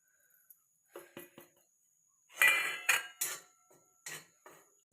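A spatula scrapes and stirs dry gram flour (besan) roasting on a hot iron griddle, making short intermittent scraping and clinking strokes in several bursts against a quiet background.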